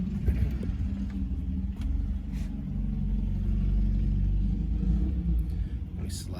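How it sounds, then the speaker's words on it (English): A neighbor's car engine rumbles low and steady from some distance away, swelling slightly in the middle, with a person talking nearby over it. "My neighbor's having fun with his car right now"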